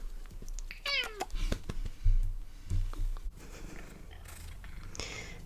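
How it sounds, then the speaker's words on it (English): An indoor house cat lets out a quick, loud meow early on, followed by low rumbling purr-like sounds and faint shuffling, close to the microphone with no talking. "there's a cat in here, so he might make quite loud noises. He's very vocal."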